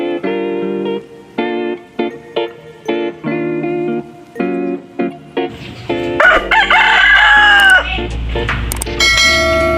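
Roosters crow repeatedly amid clucking chickens at a feeding spot, with a loud burst of flock noise and a long crow in the middle, the calls close and mostly alone without talk.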